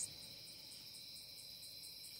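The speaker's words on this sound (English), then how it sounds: "With the crickets and chipping" Steady, high-pitched cricket chirping repeats in regular pulses, a continuous nighttime insect chorus with no voices.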